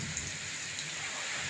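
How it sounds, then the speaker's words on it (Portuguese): Light rain falls with wind on a farm plot, a faint, steady hiss with soft patter, quiet and alone. "Uma chuvinha cá, começou do nada, galera."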